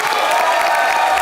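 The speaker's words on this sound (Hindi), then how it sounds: "जोरदार तालियां हो जाए" A studio audience at a television comedy show claps in a short, steady burst of dense applause with no single voice standing out.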